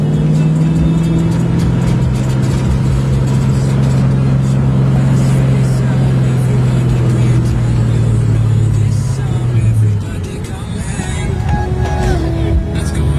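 A supercharged Saleen Mustang S281 engine drones loudly from inside the cabin, pitch holding then falling away, with someone talking over it.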